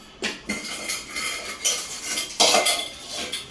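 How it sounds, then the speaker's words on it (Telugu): Ghee mixed into a sunnundalu laddu mixture in a metal vessel: repeated clinking and scraping of a utensil against the dish in an uneven rhythm, close and moderately loud. "బాగా కలుపుకోవాలి."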